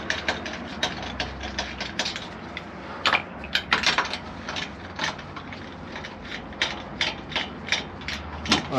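Wheel nuts are undone with a rapid, continuous ratcheting chatter, loud and close, with sharper clicks and pauses as each nut spins loose.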